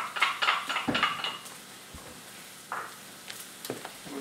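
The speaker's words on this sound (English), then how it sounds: "I'm going to add the shallots. And these are the shallots that we just diced." Diced shallots hit hot olive oil in a pan and give a soft, steady sizzle, with scattered clinks of a utensil against the pan as they are stirred.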